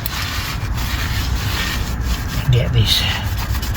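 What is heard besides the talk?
cloth wiping oil off a brake disc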